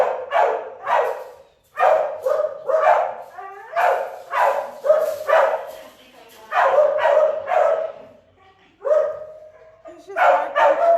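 A stressed dog in an animal shelter kennel barks repeatedly in loud, close bursts with short pauses, mixed with whimpers.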